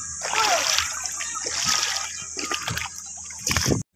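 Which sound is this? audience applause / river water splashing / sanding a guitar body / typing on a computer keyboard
river water splashing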